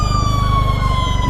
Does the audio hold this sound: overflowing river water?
no